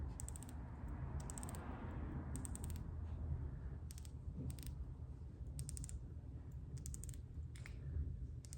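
A rotating bezel on a Tudor Black Bay 58 GMT turned by hand, giving a soft series of faint, dull clicks in short clusters over a low, steady hiss, with no talking.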